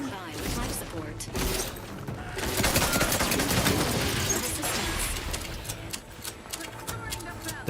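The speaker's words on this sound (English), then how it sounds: "The pistol kind of fucks, man, with the 10 shots, as I say, rapid fire" Rapid pistol fire in the video game The Outer Worlds 2, dense bursts of shots mixed with game effects, loud and close, with a voice talking at points.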